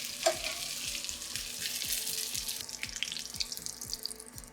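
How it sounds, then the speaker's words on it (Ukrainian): Chopped chicken fillet cutlets with mozzarella sizzle steadily in a frying pan, a dense continuous crackle with faint intermittent ticks and clinks underneath, no voices. "Наприкінці можете ще раз перевернути котлети і обсмажити повторно з нижнього боку протягом хвилини"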